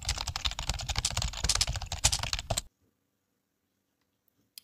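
A username is typed on a computer keyboard in a rapid, dense run of close key clicks lasting a few seconds, then stopping abruptly into silence, with one faint click at the end.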